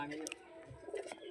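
Native black-green pigeons coo in a soft, close murmur, broken by a few brief higher chirps, with faint voices mixed in.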